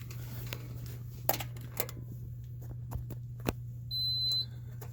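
A truck's battery disconnect alarm sounds a single beep over a steady low engine or electrical hum, with a few scattered clicks and knocks nearby.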